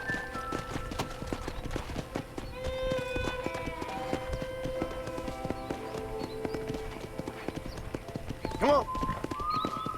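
Horse hooves clip-clop steadily at a walk in the Western video game Red Dead Redemption on Xbox 360, with a brief whinny near the end, under background music and a voice speaking.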